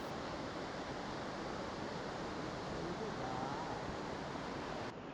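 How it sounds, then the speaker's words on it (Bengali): A river near Kasol in Himachal Pradesh flows past a riverside hotel, giving a constant broad rushing wash of water that stays steady and fairly faint from start to end, with no talking. "নদীর ছলছল শব্দ আর পাখির ডাক"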